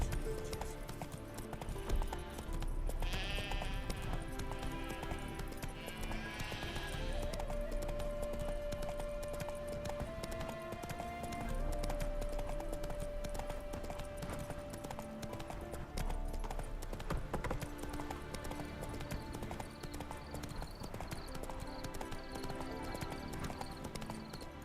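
Roach the horse's hooves clip-clopping at a steady walking rhythm in the game The Witcher 3, heard faintly under a continuous musical score that carries through the whole stretch.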